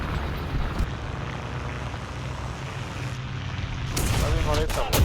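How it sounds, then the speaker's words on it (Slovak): An airplane passes overhead with a steady propeller-like drone that swells toward the end, while people talk nearby. "Tady ma lietadlo, jasné."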